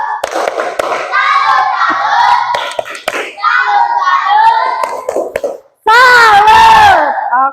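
A school class does a "tepuk salut" routine, children chanting together in loud, sing-song shouts punctuated by sharp rhythmic claps, ending in a final loud collective shout after a brief pause.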